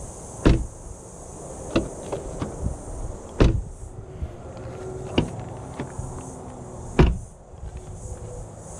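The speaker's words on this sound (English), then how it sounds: "the sound of the doors when they close, they have a really nice thunk to them" Doors of a 2024 BMW X1 M35i swinging shut, giving about five solid, separate thunks spread over several seconds, close and fairly loud against a quiet background.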